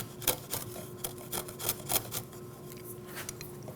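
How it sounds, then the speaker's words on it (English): A chisel held bevel side up scrapes along the wooden edges of a picnic table, giving a string of short, close rasping strokes in an uneven rhythm over a low background hum. "using a chisel bevel side up,"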